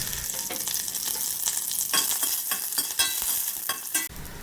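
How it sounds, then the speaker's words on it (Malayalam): Mustard seeds, dried red chillies and curry leaves frying in hot oil, a close continuous crackling sizzle with scattered sharp pops and stirring scrapes, no voices. "വറ്റൽ മുളക് ഇട്ട് വേപ്പിലേക്കിട്ട് നമുക്ക് ഒന്ന് കടുക് വറുത്തെടുക്കാം."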